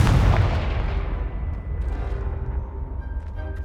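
The Confringo fire spell goes off in Hogwarts Legacy with a heavy, booming blast at the start. The boom then rumbles and fades away over several seconds, with no voices.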